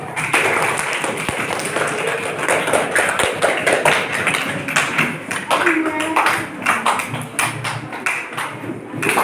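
Schoolchildren clap in a classroom, a burst of many uneven hand claps and taps that continues for several seconds, mixed with voices and chatter in the room.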